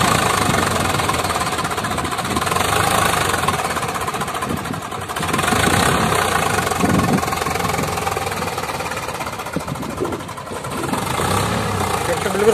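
Swaraj 855 FE 4x4 tractor engine running with a rear blade attached, a steady loud diesel rumble with knocking texture throughout, with a voice speaking over it.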